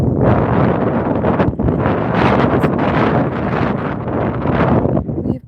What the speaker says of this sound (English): We've got wind.